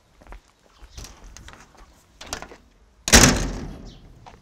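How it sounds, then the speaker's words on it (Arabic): A car door, apparently a taxi's, shuts with a single loud slam near the end, preceded by scattered softer knocks and rustles nearby. "روح سكر الباب من وراك"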